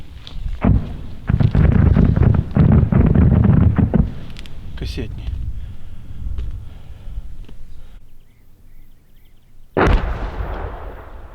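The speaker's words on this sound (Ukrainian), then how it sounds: "так що наша артилерія теж нормально насипає" Artillery fire near the front line by Bakhmut booms in heavy, rumbling bursts, a dense cluster early on and another sharp close blast near the end, with wind-like rumble between.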